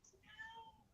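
A house cat lets out a single short meow, close and fairly quiet, with a slight rising then falling tone and no other sounds alongside it.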